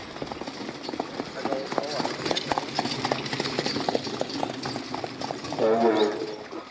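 Horses trotting at a harness race in Amman Valley, hooves clip-clopping in a steady rapid patter at moderate distance, continuous under crowd ambience, with a brief louder voice near the end.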